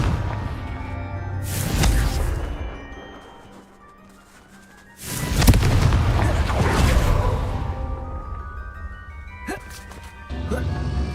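Confringo fire spell explosions in the game Hogwarts Legacy, two loud booming blasts with crackling debris and rumbling tails, separated by a quieter stretch.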